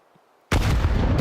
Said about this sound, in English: Big nade damage.